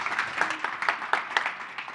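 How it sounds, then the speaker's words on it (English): A small audience at a human trafficking symposium claps for a speaker, a sparse, uneven patter of handclaps at moderate volume. "Please give her a round of applause."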